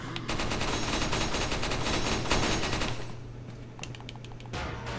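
Rapid automatic gunfire from a gun in the video game Resident Evil 4, a dense loud burst of shots for about three seconds, then a pause and a few more scattered shots, with no talking.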